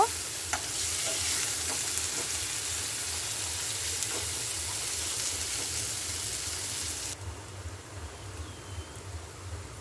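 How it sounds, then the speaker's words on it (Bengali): Chopped onion stirred in hot oil gives a loud, close sizzle with rhythmic scraping strokes underneath, then the hiss drops sharply and continues more quietly near the end; nobody speaks. "পেঁয়াজ কুচিটাও হালকা নেড়ে চেড়ে লাল করে নেব।"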